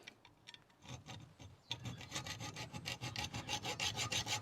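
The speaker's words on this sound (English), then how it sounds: "you put a slot in it with the trusty hacksaw" A trusty hacksaw cuts a slot into a hard-to-reach bolt while a classic MGC gearbox mounting is being fitted. Close, steady rasping strokes build up and keep a regular back-and-forth rhythm, with no talking.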